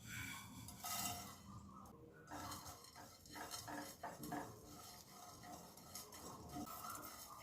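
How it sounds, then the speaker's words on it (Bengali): Whole spices with a dried red chilli and whole five-spice seeds dry-roast in a pan over a low gas flame, giving faint scraping, stirring and light metallic clinks with no one talking. "গ্যাসটাকে এবার লো ফ্লেমে রেখে 2 থেকে 3 মিনিট গোটা মশলাগুলো ভেজে নেব"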